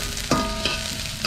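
Garlic and spices, including star anise, frying in hot oil over a lowered flame while being stirred, with a steady close sizzle and two sharper bursts from the stirring, for a beef-foot soup.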